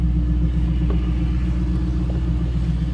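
A 2002 Pontiac Firebird Trans-Am WS6 engine idles with a deep, throaty rumble from the exhaust, steady and close, with faint mechanical ticks now and then and no talking.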